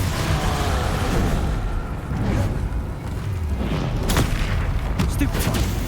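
A Confringo explosion spell going off in Hogwarts Legacy on PS5, heavy booming blasts layered with a dense rumble, with a couple of sharp bursts near the end and spell-casting voices around it.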